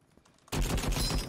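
Rapid bursts of automatic fire from a light machine gun in the online shooter game Krunker.io erupt suddenly after a quiet start and rattle on loudly and continuously.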